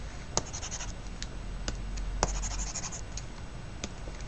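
Pen scratching out handwriting on a diagram for an economics lecture on the money market, short irregular strokes and taps, close and quiet against a low steady hum, no talk.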